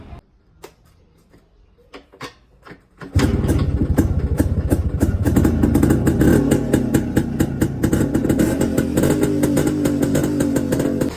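A stock original classic vintage motorcycle engine fires up after a few seconds of quiet clicks and handling, then runs steadily and loudly with a fast, even exhaust beat close by.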